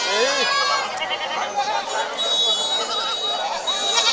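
Goats bleating repeatedly at a busy livestock market, close and loud, mixed with the steady chatter of a crowd and other animal cries throughout.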